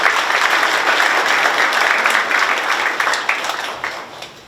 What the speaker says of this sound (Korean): 박수로 맞이해주시기 바랍니다